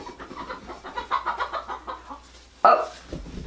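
Chickens cluck in a quick, uneven series close by, with one sharper, louder squawk near the end.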